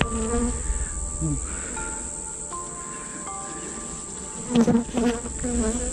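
Honey bees buzzing during a hive inspection, a dense continuous hum close by with individual bees droning past, plus a few brief handling knocks and rustles near the end.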